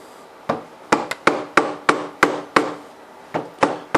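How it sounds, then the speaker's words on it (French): A small mallet gently taps a stuck cylinder head on a two-stroke enduro motorcycle during a piston change, giving about ten sharp, close wooden knocks in an uneven rhythm, some in quick pairs, with no talk. "Au maillet, tu tapotes dessus tout doucement, pas au marteau"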